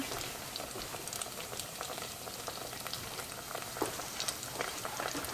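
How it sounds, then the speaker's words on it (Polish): Yeast doughnut rings sizzle in hot frying oil, a steady dense crackle and bubbling that runs evenly throughout with no voices. "Czy to się już smaży, czy ten olej podnosi tego oponka do góry."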